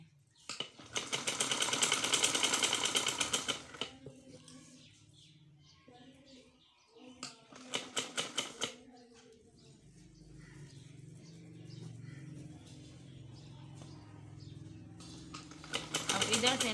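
A sewing machine stitches a round seam on a kurti in three rapid, loud bursts of chattering stitches, with quieter pauses and some talking in between.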